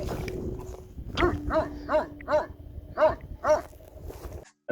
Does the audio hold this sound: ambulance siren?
no